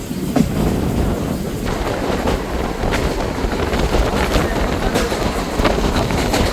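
A Kalka–Ambala Cantt passenger train runs along the rails with a steady rumble and repeated clickety-clack of wheels over joints, heard from on board with wind noise.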